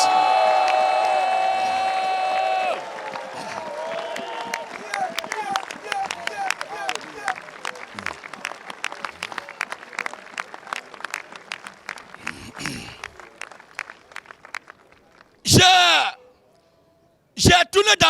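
A crowd at a Christian revival gathering claps steadily and cheers in acclaim of Jesus Christ, the applause sustained and dense, with bursts of shouting and whistles near the end.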